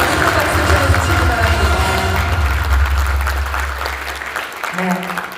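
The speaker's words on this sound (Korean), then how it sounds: "한번 박수 쳐주시기" Loud, continuous audience applause fills a convention hall at the opening ceremony of a joint medical treatment center, with low rumble underneath and a voice emerging as the clapping fades near the end.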